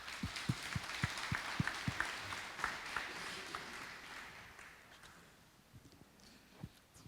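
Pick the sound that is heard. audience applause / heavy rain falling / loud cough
audience applause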